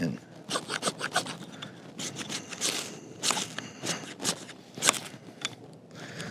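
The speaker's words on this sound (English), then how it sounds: "it has a scraper on it. We're going to see how well the knife does that" A SOG throwing knife's spine scrapes along fat wood in repeated short, rasping strokes with uneven rhythm, close and fairly loud.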